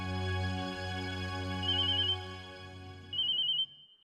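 Outgoing phone call ringback heard through a handset, a steady tone pulsing in two rings, with a brief pause between them before it cuts off.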